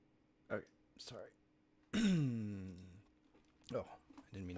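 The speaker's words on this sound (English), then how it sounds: "I didn't mean to clear my throat in the mic" A throat clearing into a desk microphone during a coding session, one long rasping, voiced rumble in the middle, with brief murmured vocal sounds before and after it, close and fairly quiet.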